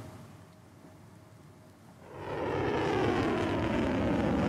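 Iranian drones heading toward Israel: a low drone hum that swells midway into a loud, steady aircraft-engine roar, with no voices.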